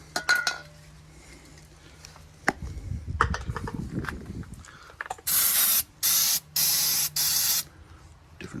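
Degreaser is sprayed onto the underbody of a Jaguar XJS in four loud, hissing bursts close to the microphone, after a few faint clinks and handling noises.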